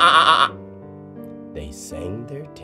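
A person imitates a sheep with a short wavering bleat, followed by softer shuffling and breathy sounds, close and fairly quiet.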